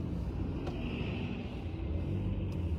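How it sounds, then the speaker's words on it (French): A city bus passes very close on a street in Lille, a steady low engine rumble and road roar holding loud and near throughout, with no break in the noise. "Il a failli me racler, hein, ce bus."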